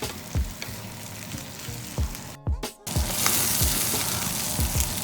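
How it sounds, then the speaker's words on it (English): Eggplant stuffing browns and sizzles in a hot skillet as it is stirred, giving a steady frying hiss with repeated scraping strokes and a brief pause midway. "What you're going to do is mix this in now. See how brown the skillet's getting?"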